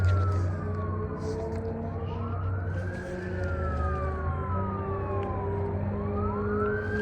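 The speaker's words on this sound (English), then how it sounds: "There's like engines and fire trucks and very loud and not peaceful." A fire truck siren wails, sweeping up and down over a steady low engine rumble, loud and continuous throughout.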